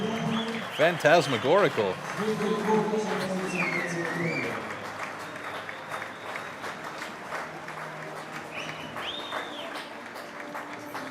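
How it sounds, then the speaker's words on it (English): A home crowd at the STIHL Timbersports European Nations Pro Cup 2022 applauds the Swiss team, a continuous rumble of clapping beneath an announcer's voice and a burst of music. "Tons of applause from the audience for the Swiss team, of course, as the home team."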